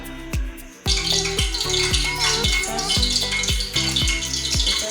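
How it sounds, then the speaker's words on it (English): Onions added to vegetables in hot vegetable oil, with a repeating sequence of sharp clanks from utensils striking a pot over a constant sizzle and light stirring, up close, no voices. "Adding our onions to our vegetables after our 5 spoons of vegetable oil."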